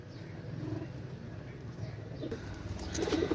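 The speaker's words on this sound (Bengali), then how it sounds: "একজোড়া সাহারানপুরি কবুতর মাশাআল্লাহ" A pair of Saharanpuri pigeons, a Pakistani high-flying breed, coo softly at close range, low murmuring calls over faint background noise, with no speech.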